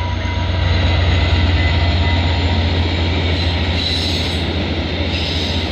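VIA passenger train 6413 rolls past on its way to Windsor, a loud, steady rumble with a deep engine drone and a thin wheel squeal running throughout.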